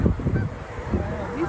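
A barnacle goose on Prince Edward Island gives a quick series of nasal honks, fairly close and loud over a noisy outdoor background.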